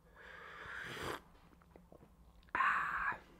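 Two loud, breathy slurps of hot tea, separated by a quieter pause with faint clinks and rustles.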